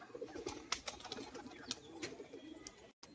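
Male pigeons cooing in short repeated low bursts during a courtship display in a pigeon house, faint and nearby, with a few sharper knocks and rustles between calls.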